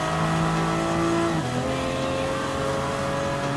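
Race car engines roar continuously in Gran Turismo Sport as the cars pass a Porsche and a LaFerrari, with a loud, sustained revving drone and a gear-shift pitch drop partway through.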